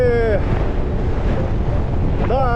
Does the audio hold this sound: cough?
no